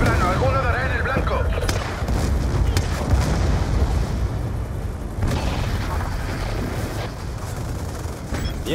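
Strafing-run explosions in Call of Duty Black Ops II, a dense, loud barrage of booms and gunfire rumbling continuously, with a voice speaking briefly over the din.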